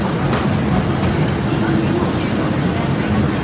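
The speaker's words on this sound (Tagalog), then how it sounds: "Here's the train!" A train pulls into a Hong Kong metro platform with a steady loud rumble and rolling hum throughout, while voices are heard over it.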